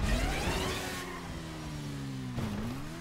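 A motorcycle engine revs and accelerates in a GTA race, a steady mid-pitched drone whose pitch rises, dips and climbs again over a few seconds, loud and close with no talk over it.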